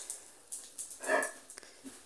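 Pet dog whimpering in greeting at its owner's arrival: a few faint, short whines and yips close by, with one slightly louder whimper in the middle.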